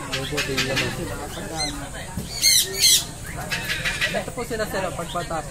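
Sun conure parrots squawk in sharp, shrill bursts at a Philippine bird event, two loud calls standing out amid constant chatter while several people talk nearby.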